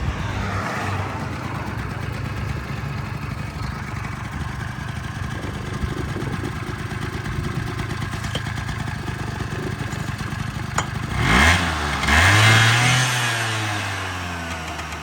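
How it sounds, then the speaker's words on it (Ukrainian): A carbureted Honda Tact AF-51 scooter engine idles steadily with a low, bassy hum, then briefly revs up and winds back down near the end. "Гарно працює двигун, ніяких питань."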